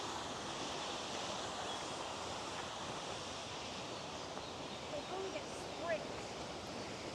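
Aira Force, a natural waterfall in the Lake District near Ullswater, roars as a steady broadband rush of falling water heard from a distance, even and continuous throughout, with no talk over it.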